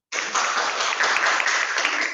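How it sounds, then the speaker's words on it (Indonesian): Classmates in a school classroom applaud a student after her presentation: a short, dense burst of clapping that starts abruptly and holds steady. "tepuk tangan dulu buat Nafsa"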